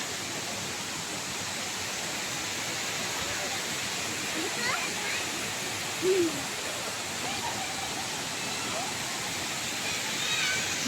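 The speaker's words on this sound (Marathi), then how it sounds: "बघू शकता तुम्ही धबधबा" Steady broadband rush of a waterfall in a forest fills the scene throughout, a constant roar with a few faint bird calls and small sounds on top.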